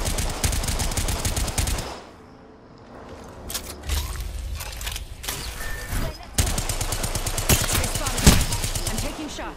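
Automatic gunfire in the battle royale game Apex Legends, with rapid bursts of shots and full-auto fusillades that start and stop across the stretch, a brief quieter gap early on, loud and close.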